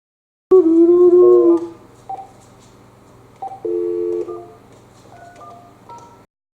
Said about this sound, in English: I am going to call this number right now.